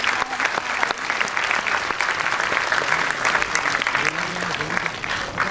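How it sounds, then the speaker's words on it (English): An Independence Day celebration crowd breaks into a big round of applause, thick sustained clapping from many hands, loud and even throughout, with some voices murmuring underneath. "A big round of applause."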